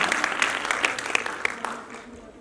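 Applause from the audience at a women's day mushaira poetry gathering, brisk scattered clapping that thins and fades toward the end, moderately distant, with no voices over it.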